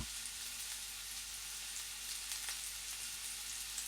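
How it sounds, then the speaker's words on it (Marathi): Spice masala paste fries gently in oil in a pan over low to medium heat, a faint, even sizzle that holds steady throughout. "मसाला आपला मंद ते मिडियम गॅसवर छान भाजून घ्यायचा आहे त्याला कडेने तेल सुटलं पाहिजे"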